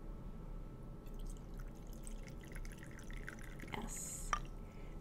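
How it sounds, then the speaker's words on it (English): Lemon meringue green tea trickling and dripping into a cup, a soft continuous liquid pour with a few brighter splashes near the end, close and gentle over a quiet room hiss. "we're going to pour a lovely cup of lemon meringue green"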